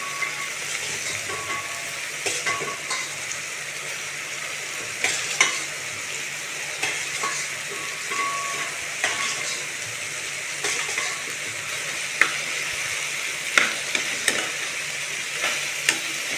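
Steady sizzling of meal maker soy chunks frying in a pan, with scraping and clinking of a spoon stirring them at irregular moments throughout.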